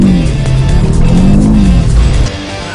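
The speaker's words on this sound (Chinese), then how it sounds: "踩油门，它直接进入甩尾模式" A red-top 2023 Mazda MX-5 soft-top roadster with manual gearbox accelerates hard and slides its tail out in a drift, the engine roaring loud and steady, the pitch rising, then the sound dropping away near the end.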